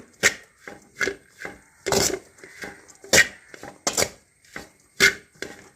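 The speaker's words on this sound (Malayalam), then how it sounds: "കൈ എടുക്കാണ്ട് ഇങ്ങനെ ഇളക്കി കൊടുത്താൽ നമുക്ക് നന്നായിട്ട് കിട്ടും" Gram flour laddu mixture is stirred in an iron wok, giving about ten rhythmic, close scraping strokes of a spatula against the metal pan, with no voices.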